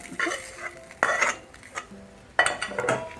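Tempering of turmeric and asafoetida being mixed into tamarind rice with a spoon, bursts of metal scraping and clinking against the vessel in three clusters with pauses between, close and alone.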